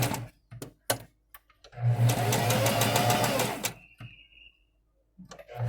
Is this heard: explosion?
no